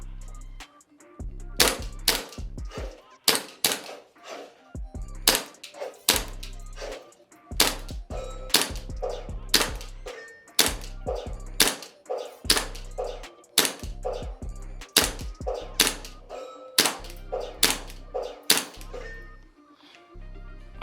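A Taran Tactical Combat Master Alpha 2011 gas blowback airsoft pistol fires a long string of sharp, close shots in an uneven rhythm of singles and quick pairs, each a crisp thunk with slide clack, on a cool day.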